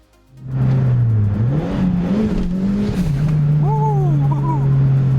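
A turbocharged 2ZZ-GE VVTi engine in a Toyota MR2 Spyder starts up and revs while accelerating, a loud close droning note rising and dipping, with whistling turbo tones near the end and no talk.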